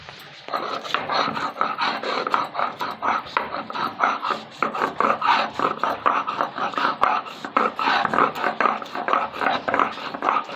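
Mustard seeds with onion being ground into a paste for a Bengali chochchori, a continuous rough rasping and scraping in steady back-and-forth strokes, close and fairly loud with no talking.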